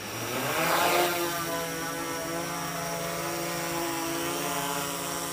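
DJI Mavic 3 drone climbing on a foggy night flight, a steady whining propeller buzz with layered harmonic tones that swells briefly near the start, then holds constant and moderately loud with no talk.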